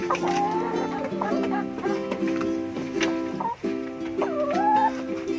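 Fifteen laying hens cluck and murmur close by, with repeated short calls and a few rising squawks over a steady farmyard background.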